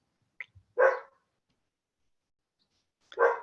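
A dog next door barks twice, loud and close, a few seconds apart, with silence in between.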